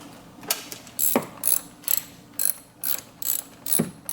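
A ratchet snugs up the screws on a Camaro V6 intake manifold spacer in quick, close clicking bursts, about eight short runs of pawl clicks with brief pauses between them.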